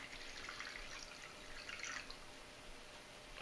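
Room-temperature water pours steadily onto raspberry ration drink powder, a faint continuous trickling splash close by with no voices.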